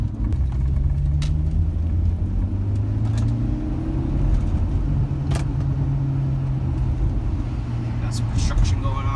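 A car with a Stage 1 Plus tune cruising on a road: a steady low engine rumble with a slowly rising and falling drone, heard close up under occasional light clicks and noises.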